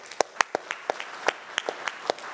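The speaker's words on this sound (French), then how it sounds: "c'est là où tout le monde applaudit et tout" A small tech-conference audience gives sparse, scattered claps, a dozen or so distinct slaps over a light background hiss.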